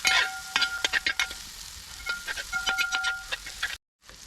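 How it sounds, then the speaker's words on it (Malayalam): Fennel seeds fry and sizzle in a pan while being stirred, with close scraping strokes and sharp crackles in an irregular rhythm, then a sudden cut to silence near the end. "പെരിഞ്ചീരകം, നന്നായിട്ട് ഇളകി കൊടുക്കണം."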